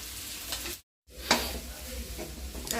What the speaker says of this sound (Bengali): এখন এই মিক্সিং চলছে আর কি সব সবজির